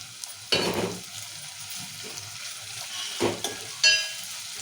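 Ridge gourd curry with green chillies is mixed in a pan over a soft continuous sizzle, with a few distinct scraping strokes standing out close by.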